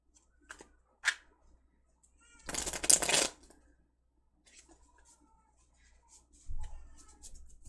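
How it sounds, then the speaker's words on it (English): A deck of tarot cards being quickly shuffled, a dense burst of riffling near the middle with a few short card taps before it and faint handling noises after, recorded close in a quiet room. "Right, I'm going to do a quick shuffle."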